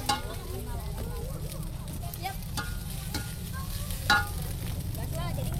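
Egg and oil sizzling with macaroni snack in a pan, stirred with a steady hiss and scattered scraping clicks, moderately quiet and continuous.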